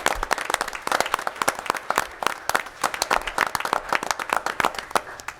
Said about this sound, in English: One more round of applause for our robotics team.